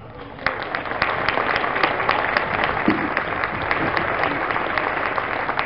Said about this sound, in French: Alors, je vous propose de les applaudir.